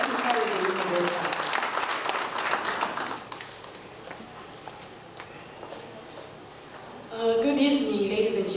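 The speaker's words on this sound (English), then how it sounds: "Round of applause." An audience applauds at an ICT innovation fund pitch night in Harare. Loud clapping at the start fades into a quieter stretch, and then a speaker's voice comes in near the end.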